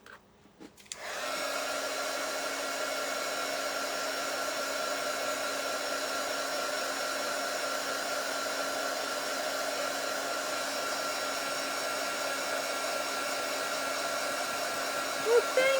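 A hair dryer runs steadily while drying a dog, starting abruptly and then holding a constant whirring tone at moderate volume nearby, with a faint bump near the end.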